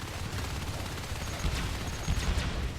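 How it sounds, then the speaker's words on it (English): Explosions and gunfire from the video game Natural Selection 2, a dense, continuous stretch of booms and shots with heavy low rumble, loudest around the middle and near the end. "Wow, explosions all over the place."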